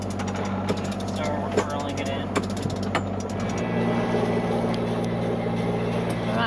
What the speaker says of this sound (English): We are heading to wind, so we started the engine.